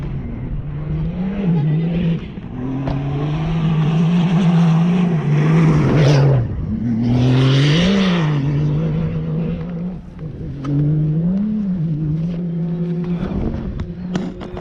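Rally enduro vehicle roaring past in the Moroccan desert, a loud, close engine drone that swells and falls in pitch with several throttle surges, rising to a thunderous peak as it passes.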